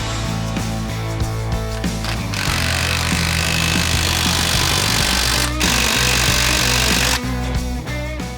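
Loud power-tool impact and ratcheting bursts tighten the shock bolts on a Ford Bronco during a leveling kit install, with sustained close grinding-hammering runs broken by short pauses.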